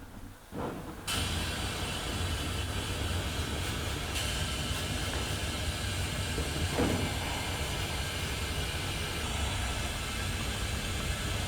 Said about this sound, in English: I got a sandblaster now, so I can go ahead and start cleaning these up.